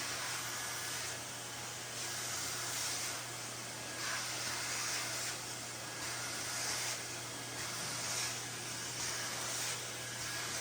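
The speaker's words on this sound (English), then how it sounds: "We give it a final vacuum, remove any dust that was created under the buffing." A vacuum cleaner hisses and rushes steadily over bathroom and kitchen tiles, picking up dust left after buffing, with faint rhythmic surges as the nozzle moves back and forth.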